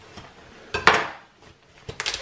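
A knife cutting through a plucked pheasant wing at the elbow joint, with a few close, sharp crunching clicks and a louder scraping crack midway, followed by softer clatter near the end.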